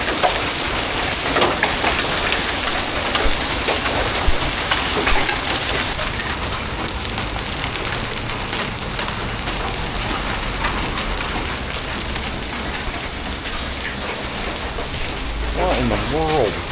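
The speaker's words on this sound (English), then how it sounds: "Well, we have hail." Hail pelts down steadily in a dense, continuous clatter, with a low rumble underneath and a voice speaking briefly near the end.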